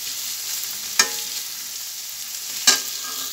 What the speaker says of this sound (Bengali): দেখেন আমি লালচে কালার করে ভাজি করে নিচ্ছি